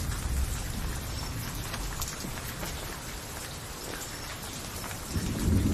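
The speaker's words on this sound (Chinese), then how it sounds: "外面雷声已经小了许多" Steady heavy rain pours outside during a thunderstorm, a dense continuous hiss with low rumbling thunder swelling near the end, no voices.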